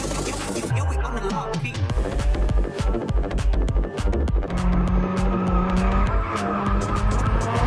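An Audi accelerates hard in a street race against a Chevrolet SS, tires squealing and skidding over a loud, throbbing engine roar, with scraping tire noise and revving in the foreground.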